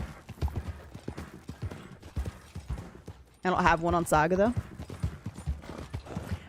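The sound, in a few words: horse galloping in video game Red Dead Online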